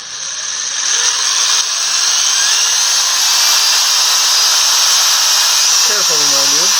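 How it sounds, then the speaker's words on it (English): A high-pitched power drill whines steadily and loudly throughout, close by, with a brief voice near the end. "you got to drill one hole all the way through"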